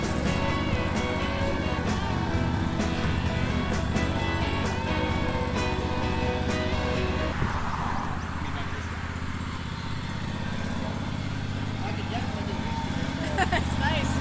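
A lawn mower engine drones steadily close by while being throttled up, its tone shifting partway through, with people talking over it.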